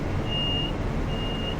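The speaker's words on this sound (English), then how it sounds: "2 buzzes, clear to go." Two clear buzzes signal departure in Train Simulator 2 aboard a Class 380 train in snowy conditions, two identical steady tones in quick succession over a continuous low cab rumble.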